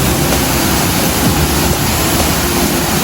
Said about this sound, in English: so this is the waterfall.